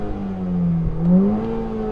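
A Volkswagen Golf GTI engine rises in pitch through a smooth rev, dips briefly, then climbs again in a short, close burst with no talking.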